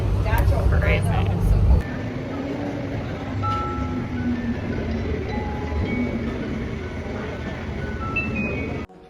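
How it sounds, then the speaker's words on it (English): A Melbourne tram rolling along, a low steady rumble with faint squeals and whining tones, a louder clatter at the start, heard from inside the car. "We're on the tram that stops."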